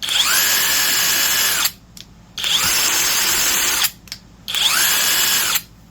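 A Vevor 1/2-inch high-torque brushless impact wrench runs in three loud, close bursts of about two seconds each, a whirring motor rising in pitch with brief quiet gaps between pulls of the trigger.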